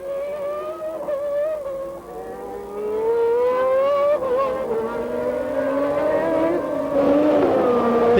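Formula One race cars at the Brazilian Grand Prix: high-pitched engines whine and rise as cars rev and pass one after another, loud and close, with no talk.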